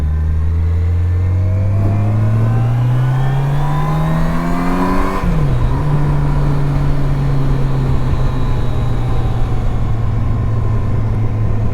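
A Yamaha FJR 1300 motorcycle engine revs up loud and close, its pitch climbing steadily before it drops back and holds a steady note.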